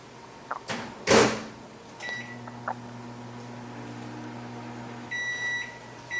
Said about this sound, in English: So I'm going to melt some chocolate chips in my microwave.